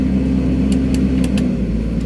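Diesel engine of an XCMG XE135B excavator with an auto-idle fault, running loud and close with a steady low rumble, the revs easing down as the accelerator is worked, a few faint clicks on top.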